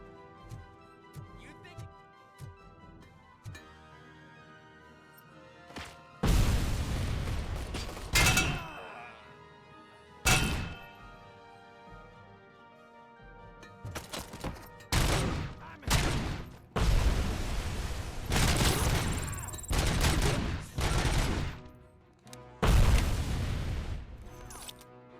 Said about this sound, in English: Really like the marble constantly exploding.